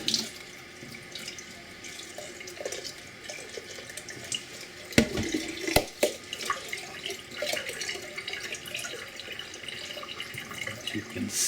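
Tap water runs into a jar of sprouts for a rinse, a steady splashing stream at close range with a louder burst of sloshing and clattering midway, alone without talk.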